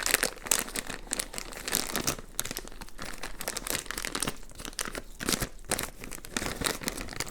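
A plastic piping bag filled with buttercream is folded over and wrestled by hand, giving steady close-up crinkling and crunching with no pauses.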